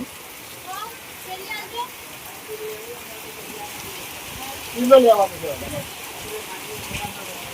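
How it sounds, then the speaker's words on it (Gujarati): Steady rain falls with a soft, continuous patter, while faint voices and a few brief chirping sounds rise over it midway. "તો મિત્રો પાંચ વાગી જાય જેવો વરસાદ ચાલુ થઈ ગયો છે"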